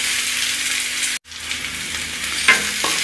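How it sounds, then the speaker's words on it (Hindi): Chopped onion hitting hot oil in a pan for a creamy white sauce pasta, giving a loud broadband sizzle that cuts out briefly, then returns steadily with light stirring clinks. "तेल गरम हो गया है, इसमें प्याज डाल देंगे। इसे थोड़ी देर भुनेंगे, 1 मिनट के लिए"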